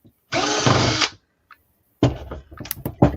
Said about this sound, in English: You hear that drill